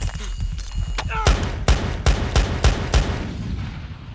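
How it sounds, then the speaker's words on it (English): A rapid series of about six sharp gunshots rings out in a movie scene, evenly spaced and loud, following a brief scuffle, with a faint voice early on. "Someone suddenly attacks Max and beats him badly, though Max manages to fire his gun before passing out"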